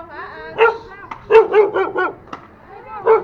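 Dogs barking on a street during an outdoor interview: several close, loud barks and yips in quick succession, with a short whine-like call at the start and another bark near the end.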